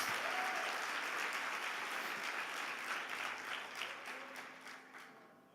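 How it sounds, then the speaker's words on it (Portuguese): A church congregation at a Sunday worship service applauds in praise of Jesus, with dense, steady clapping that fills the room and slowly fades toward the end. "Então dá um aplauso a Jesus"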